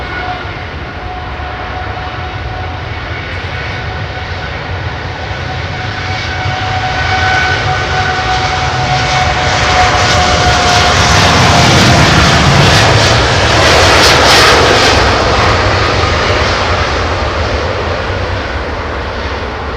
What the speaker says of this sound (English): Got 777-300 taxiing out from T4 as well.